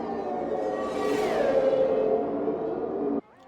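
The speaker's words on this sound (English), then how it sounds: "those cars sound absolutely brilliant going through the tunnel" Racing cars in a video game roar through the Monaco tunnel, a loud, sustained engine wash with a rising and falling pitch and echo, cutting off abruptly near the end.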